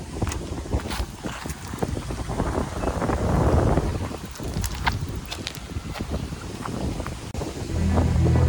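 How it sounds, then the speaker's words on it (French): Strong stormy wind at a lake on a carp fishing trip roars into the microphone in loud, continuous low buffeting, swelling in the middle and again at the end, with scattered rattles and knocks. "Bienvenue à ce lac quand il y a du vent"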